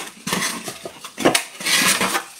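A plate is handled during an acrylic painting session, giving a few close clattering knocks and clinks, some brief and some longer, with no talk over them.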